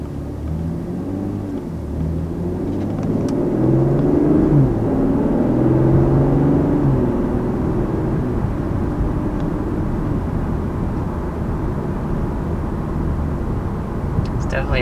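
Steady inline six-cylinder engine note from a BMW M340i while driving, a moderate continuous rumble that swells briefly then settles, heard from inside the car with occasional voices.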